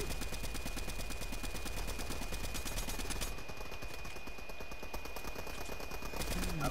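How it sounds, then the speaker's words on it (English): Rapid, dense video game gunfire rattles almost nonstop in a loud, continuous stream of shots with no clear pauses. "Well, we're opening fire."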